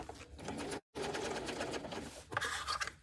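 A sewing machine fitted with a bigger needle stitches through a bulky section of thick layers on a tote bag, a close, fast, rattling run with a brief stop partway through.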